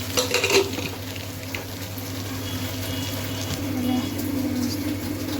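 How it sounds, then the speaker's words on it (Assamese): Greens, dhekia fern shoots, frying in a pan with a steady broadband sizzle and bubbling that runs throughout, with occasional utensil clinks; a voice is faintly audible underneath. "শাক ভাজিব ৰেডি কৰিছোঁ"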